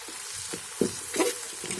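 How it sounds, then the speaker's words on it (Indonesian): Genjer (yellow velvetleaf) is stir-fried in a pan, giving a steady close sizzle broken by a few soft scrapes and stirring knocks. "Nah kemudian kita tumis-tumis ya"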